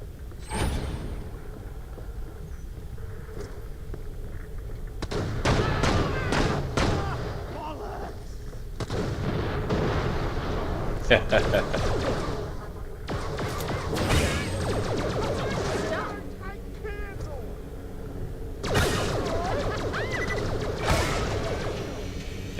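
Laser rifle gunfire in Borderlands The Pre-Sequel comes in repeated bursts of sharp shots with impacts and crashes, loud and close, with someone talking over parts of it.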